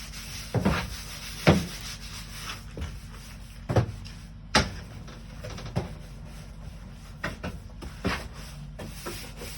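A blue soft-bristled brush scrubbing the inside of a portable toilet unit, making repeated rubbing and scraping strokes with occasional knocks against the plastic walls, close and steady throughout with no voices.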